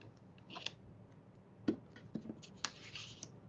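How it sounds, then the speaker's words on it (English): Scissors snip around a paper craft piece meant for a summer journal, with quiet soft cuts, crisp paper rustles and a few sharp clicks, close and faint with no talking. "So I'm just gonna trim around it."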